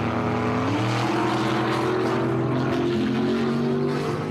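A 1949 Chevy and a 1956 Chevy with white walls on the front tires launching side by side in a drag race at a dragway, a loud continuous engine roar with rising revs, filling the whole stretch without talk.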